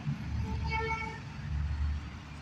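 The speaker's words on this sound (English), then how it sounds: "There's a truck going past." A truck rumbles past nearby with a steady low engine drone, and a short tonal horn toot rises over it early on.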